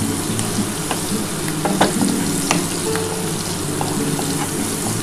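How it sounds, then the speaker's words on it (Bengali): Whole spices and cashews fry in a pan, crackling and sizzling steadily with scattered small pops and occasional scraping stirs, fairly close and unbroken throughout. "এটা একটু ভেজে নিই"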